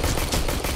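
Rapid automatic gunfire from the video game Aliens: Colonial Marines, a loud dense burst lasting under a second with no other sound over it.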